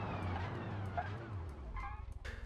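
A Mercedes A200 car braking hard during a brake test, with engine and road noise dropping as the car slows, followed by brief scrubbing tire squeals near the end, close and fairly loud.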